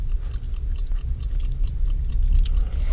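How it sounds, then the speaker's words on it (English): A plastic animatronic beak chews on something with wet smacks and squelches, making steady close crunching and clicking over a dense low rumble throughout. "The sound of a plastic beak chewing on something."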